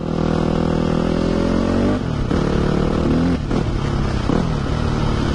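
A Yamaha YZ250F dirt bike rides a motocross track, its engine buzzing loud and close with rising revs and abrupt shifts between throttle changes.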